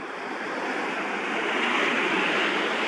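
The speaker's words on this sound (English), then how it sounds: "Right now, the water is coming in, the tide is coming in and up." Ocean waves wash in as the tide rises, making a steady, loud, broadband rush of surf that swells slightly over a few seconds, with no voices.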